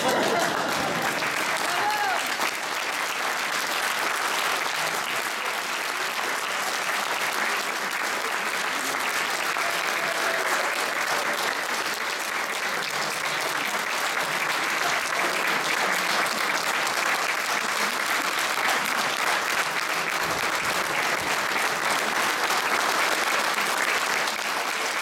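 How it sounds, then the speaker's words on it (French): Sustained, dense audience applause follows a military band concert by the 9th BIMA in Poitiers, a steady wash of many hands clapping at even loudness for the whole stretch. "Vous pouvez vraiment les applaudir."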